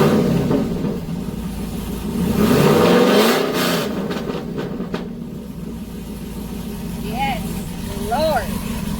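A rebuilt Chevy Avalanche truck engine revs up to a loud, deep roar and then settles back to a rumbling idle, with voices heard over it toward the end.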